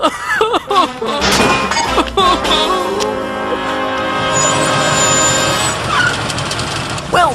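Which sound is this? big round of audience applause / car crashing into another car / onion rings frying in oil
car crashing into another car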